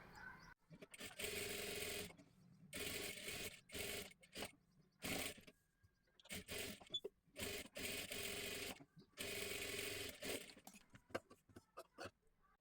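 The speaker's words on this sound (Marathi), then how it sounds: "इथे आपल्याला ही पाठीमागची सुद्धा बाजू अस्तरची पूर्ण शिलाई करून घ्यायची आहे" Sewing machine stitching the lining of a blouse with a matka neck design, running in bursts of rapid, close mechanical whirring separated by short pauses, loud and near with no talk.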